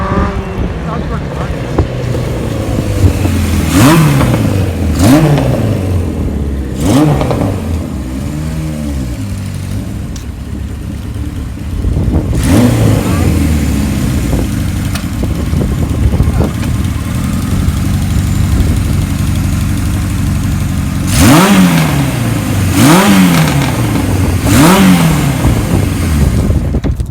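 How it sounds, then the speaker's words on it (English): A 1978 Kawasaki KZ1000 LTD motorcycle engine running near the mic, idling steadily with repeated sharp revs rising and falling several times, loud throughout with some talk mixed in. "the bike needs a little, you know, needs a little more attention, but it's a nice basic startup"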